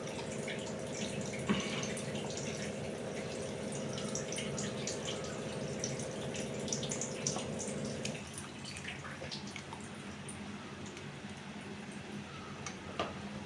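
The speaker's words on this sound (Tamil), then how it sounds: "இப்போ கொஞ்சம் தேங்காய் பால் நம்ம ஊற்றிடலாம்." Coconut milk poured into a cooking pan with green chilies and onions for fish moilee, a steady liquid trickle and sizzle that stops partway, followed by quieter pan sounds.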